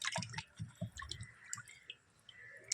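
Sardines are cleaned by hand in a bowl of water, giving close, quiet splashes, drips and wet squishing in irregular bursts, with no talking.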